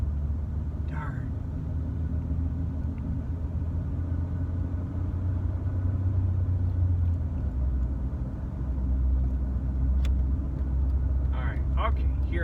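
A car with warped brake rotors drives along a road, its engine and tyre rumble steady and close inside the cabin, while someone speaks briefly.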